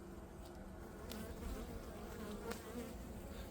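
Honey bees hum and buzz in a steady, dense drone around an open hive in spring, close and continuous with no voices.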